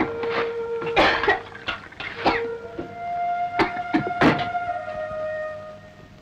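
Someone in a 1990s Telugu film scene coughs in several sharp, uneven bursts, loud and close, over a steady tonal music bed.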